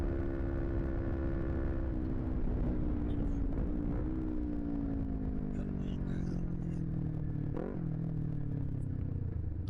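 A motorcycle is ridden and downshifted, its engine whine gradually falling in pitch through a long deceleration, then briefly blipping, under constant wind rumble.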